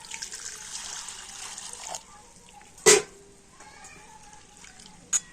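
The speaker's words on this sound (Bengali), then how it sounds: "তো প্রথমে আমি চিড়েটাকে একটু জল দিয়ে ধুয়ে নেব।" Water runs and trickles as flattened rice (chira) is rinsed by hand in a bowl, a steady splashing flow that stops, followed by a couple of sharp clinks and quiet handling.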